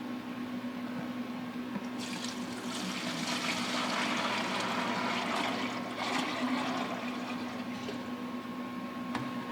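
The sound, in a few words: pouring mixed two-part sealer into a clean mixing container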